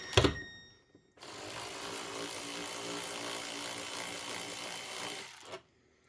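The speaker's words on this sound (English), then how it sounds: "we'll just get this little 10mm bolt right here to get off this air duct." A 10 mm bolt is backed out of the intake air duct on a Lexus LS400 with a power tool, a thump and then a steady whirring buzz lasting several seconds before stopping abruptly, close and moderately loud.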